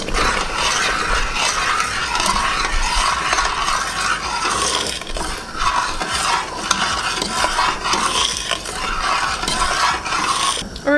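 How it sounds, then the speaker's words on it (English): Spoon stirring oregano and parsley flakes into a pot of ingredients, continuous scraping and clinking against the metal with a light sizzle underneath, close and steady throughout. "I'm going to stir all those ingredients in"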